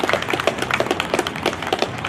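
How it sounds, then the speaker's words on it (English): Faint, scattered clapping from a small group at an outdoor Memorial Day ceremony in East Orange, a steady patter of hand claps heard from some distance. "Let's give him a round of applause for that"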